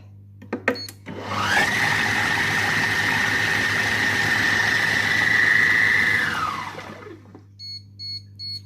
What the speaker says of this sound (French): Je vais mélanger une petite fois 5 secondes, vitesse 5.